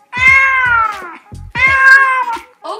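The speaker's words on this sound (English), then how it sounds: "This is a cat." A Google Home smart speaker plays a recorded cat meowing, two long loud drawn-out meows close up, followed by a short third call.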